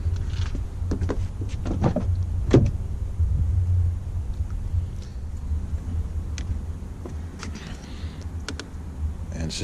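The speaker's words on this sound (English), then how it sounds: "To show the soft close that pulls those doors in." The soft-close latch of a 2014 BMW X5 xDrive50i door draws it shut, a close, low motorized hum with scattered clicks and light mechanical taps over several seconds.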